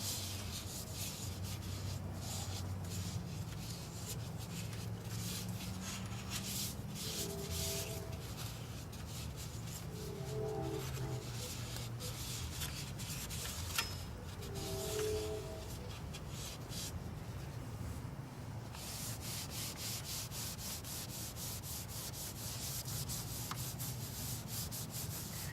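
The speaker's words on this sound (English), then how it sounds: "Just upend the bottle onto a folded paper towel and start wiping all the surfaces down." Paper towel soaked in rubbing alcohol rubbed across the surfaces inside a computer, a soft continuous scrubbing and rubbing with repeated strokes, quiet and close, with no voices.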